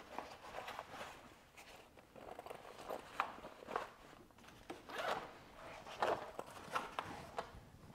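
Full-size zippers on a roll-up tool bag are pulled open in a series of short rasping bursts, close and fairly quiet, coming in irregular strokes with handling rustle between them.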